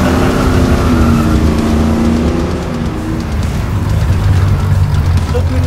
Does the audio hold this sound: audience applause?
no